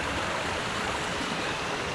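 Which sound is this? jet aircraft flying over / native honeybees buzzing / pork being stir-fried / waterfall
waterfall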